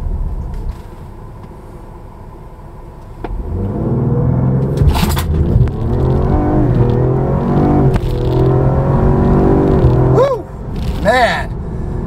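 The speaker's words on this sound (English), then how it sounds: "I'm going to turn around right here and we're going to do a 0 to 60" A Ford Explorer ST with an upgraded intercooler accelerating hard from a stop toward 60 mph, the engine rumble swelling loud and rising through gear changes, heard from inside the cabin with a voice briefly over it.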